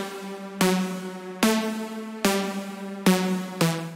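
Bright Serum synth lead in a dark synthwave style playing a simple melody of sharp, evenly paced notes with rich harmonics, each struck crisply and sustained, standing alone without voices.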